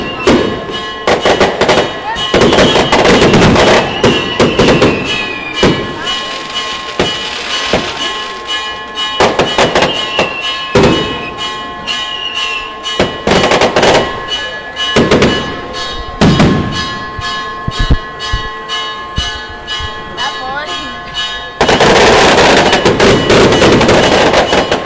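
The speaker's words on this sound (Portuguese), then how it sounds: "Imagens aí dos fogos de artifício" Fireworks burst repeatedly during a church festival procession for Nossa Senhora da Conceição in Orobó, Pernambuco, with loud, irregular cracks and bangs over a continuous crowd din and scattered voices.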